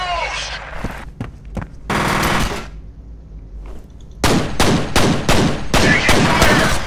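Heavy gunfire in the first-person shooter F.E.A.R. comes in loud, dense broadband bursts, with automatic fire rattling in several stretches broken by short quieter gaps.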